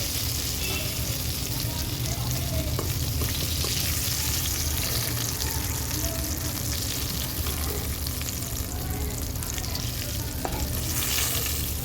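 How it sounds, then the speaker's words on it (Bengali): Eggplant pieces frying in oil in a pan, a steady close sizzle with occasional stirring scrapes running throughout, no voices. "তো দেখুন বেগুনগুলো খুব ভালো করে ভাজা হয়ে গেছে"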